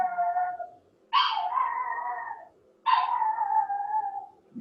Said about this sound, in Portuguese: cachorrinho.